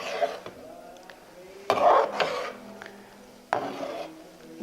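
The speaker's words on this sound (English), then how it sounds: "Give it a nice little stir" Chicken and mushroom get stirred in a pan with a utensil, making three clattering scrapes spaced a couple of seconds apart, with quieter rubbing sounds in between.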